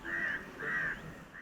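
Crows call at a disused airport runway at Salem, giving two clear caws and the start of a third, moderately distant and fairly faint against a quiet background.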